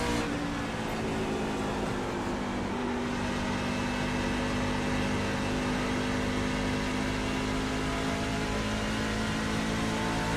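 A NASCAR race car laps the Nashville track, its engine a steady, sustained drone at constant pitch, heard from inside or close to the car with no voices.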